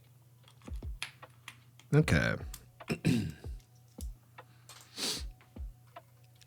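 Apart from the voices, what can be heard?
typing on a mechanical keyboard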